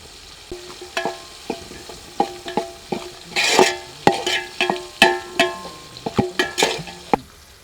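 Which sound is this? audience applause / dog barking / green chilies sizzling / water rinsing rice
green chilies sizzling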